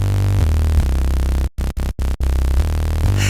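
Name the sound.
synth bass layered with noise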